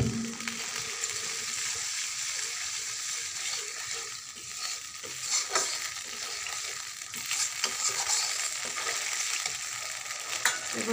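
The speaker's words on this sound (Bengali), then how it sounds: "দেখো মশলাটা কষাচ্ছি।" Masala spices with green chillies being stir-fried in a pan for a vegetarian soybean curry, a continuous sizzle broken by scraping stir strokes and occasional louder crackles, no talking.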